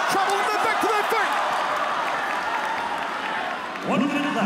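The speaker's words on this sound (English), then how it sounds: "This crowd is electric here in Macau," Dense arena crowd at a ONE Championship fight in Macau, China, roaring and cheering steadily throughout, loud and close, with a commentator talking over it and a brief swell of shouts near the end.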